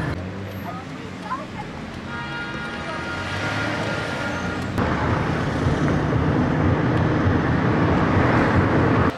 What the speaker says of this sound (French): je suis dans un taxi pour rejoindre Monor et Hugo